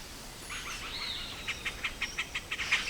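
A male cacique bird in the Amazon sings a series of bright, rhythmic chirps and whistled notes, close and clear over soft background ambience.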